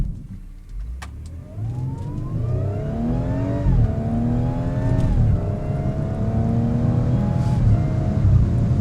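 A supercharged Audi SQ5 engine with a CTS Turbo intake accelerating from inside the cabin, with a rising supercharger whine and deep intake roar climbing through the gears, steady and fairly loud.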